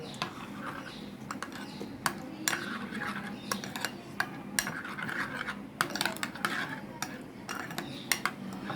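Green chilli paste, salt and ground black pepper are mixed in a bowl, with a spoon scraping and clinking against the sides in quick, irregular strokes at close range, alone.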